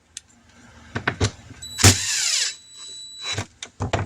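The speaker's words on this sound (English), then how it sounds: "We'll just get the screws back in it." A power drill drives screws back into a DC lighting fixture during a lighting conversion, in short loud whirring bursts with one longer run and small clicks and taps between them, close up and with no voices.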